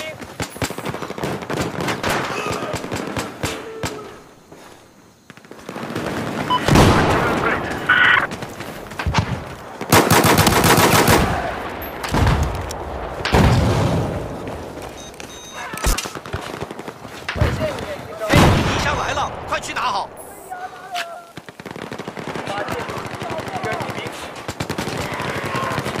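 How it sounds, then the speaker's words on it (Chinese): Enemy machine gun fire in the Battlefield 4 multiplayer team deathmatch shooter, loud repeated bursts of rapid automatic shots with gaps between them, mixed with other gunfire and game noise, and no speech heard. "发现了敌军机枪"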